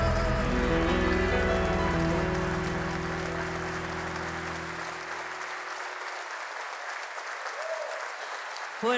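An audience at a live show applauds loudly and steadily, then the clapping thins and fades over several seconds, leaving a faint room hiss.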